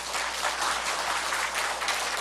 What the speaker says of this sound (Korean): 여러분, 이쯤에 대해서 여러분 박수 한번 쳐주고 싶지 않습니까?